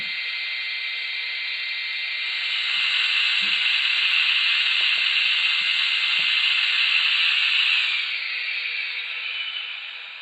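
A steady high-pitched whirring of cooling fans from the sound function of an SNCF CC 1100 model locomotive runs for several seconds, rising a little in loudness, then easing off, with faint clicks beneath.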